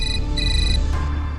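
A mobile phone ringtone for an incoming call plays loudly and up close as a repeating electronic melody of bright tones in short phrases, with no talk over it.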